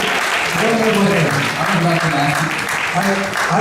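An audience applauds steadily through the whole stretch at a forum event, with talk running under the dense clapping.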